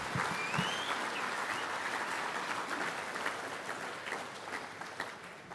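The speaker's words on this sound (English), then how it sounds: "Give him a big round of applause, Dr. Alan Aylett." Steady, dense applause from a large audience at a testimonial event, a continuous wash of clapping that holds at an even level for the whole stretch.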